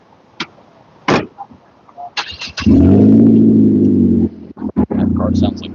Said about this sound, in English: That car sounds like shit.